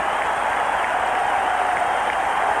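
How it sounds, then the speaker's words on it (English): A baseball crowd at the Astrodome stands and roars after a home run in the 1986 NLCS, a dense, sustained wall of cheering and applause that stays loud and steady throughout. "the crowd is standing and still roaring"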